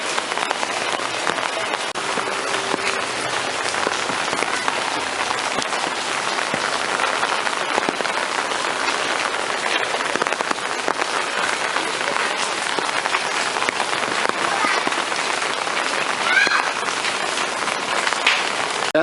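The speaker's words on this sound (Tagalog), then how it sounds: "Maulan dito, magdamag, umuulan." Heavy rain falls without pause during a rainy-season downpour, a dense, steady hiss of drops that holds at the same level throughout, with no voices.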